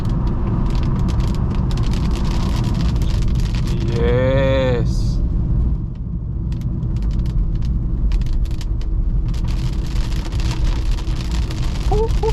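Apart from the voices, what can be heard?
heavy rain on car while driving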